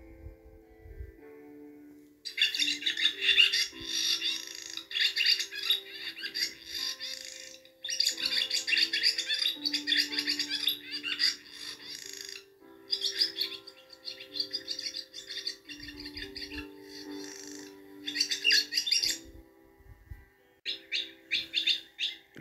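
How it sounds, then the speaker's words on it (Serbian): A swallow calls with rapid chirping twitters in repeated bursts, close and clear, with brief pauses between phrases and no talking. "Čuli ste i oglašavanje laste."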